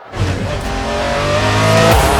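A McLaren F1 road-based race car fitted with wings accelerating hard off the line at a race start, engine note climbing loudly and steadily with a shift near the end, close and dominant.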